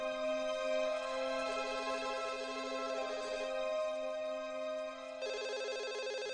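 A telephone rings steadily, a continuous electronic ringtone with a repeating tonal pattern, fairly loud and alone with no voices.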